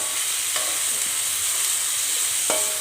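Onions frying in a pan for dhudhi curry, a loud continuous hiss of oil with a couple of faint scraping stirs, no voices.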